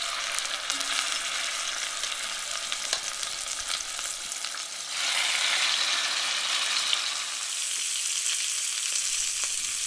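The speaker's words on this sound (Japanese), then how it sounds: "温めたココット鍋にオリーブオイルを入れてじっくりと全面焼いていきます。" Beef cheeks sear in olive oil in a hot cocotte pot over medium-high heat, giving a steady close crackling sizzle that swells louder and brighter partway through and continues alone with no talking.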